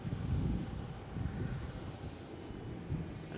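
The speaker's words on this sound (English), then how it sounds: "They're also using runway 4 for takeoffs too, runway 4 left." At Boston Logan International Airport, an airliner departs from runway 4 left, its engines a distant, steady roar with low rumble and some wind buffeting on the microphone.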